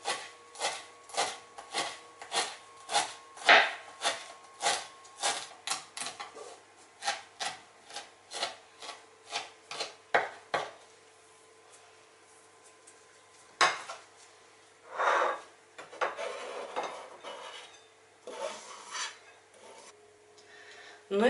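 Fresh dill being finely chopped with a knife on a board, a fast even run of crisp taps that thins out and turns into scattered scraping cuts near the end.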